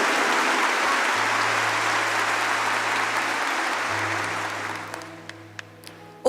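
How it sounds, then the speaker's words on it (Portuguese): A church congregation gives a warm round of applause welcoming the archbishop of Vitória, steady dense clapping under a sustained low hum that thins out and fades toward the end, leaving a few scattered claps. "Uma salva de palmas."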